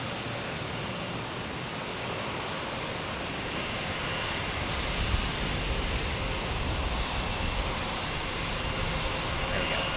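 An Allegiant Air jet airliner in Las Vegas Raiders livery on the runway at San Diego, a steady broad engine roar that holds constant throughout, fairly loud and heard from some distance.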